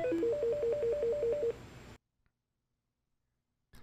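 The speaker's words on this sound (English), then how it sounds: "Press the down arrow to cycle through the various ringtones." A Mitel 6863i desk phone plays a ringtone sample, a rapid repeating two-note electronic warble for about a second and a half, then cuts off to silence as the next tone begins.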